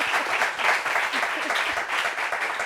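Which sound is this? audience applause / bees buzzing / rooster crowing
audience applause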